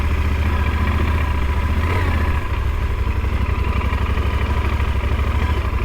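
A Yamaha Super Tenere motorcycle engine runs in touring mode on a ride on a cold day, a steady, throbbing mid-pitched drone with a slight dip in rhythm partway through, loud and continuous, no talking.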